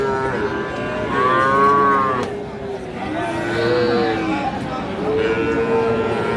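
Cattle at a busy livestock market moo loudly in several long, drawn-out calls, one after another, over a steady background of crowd chatter and talk.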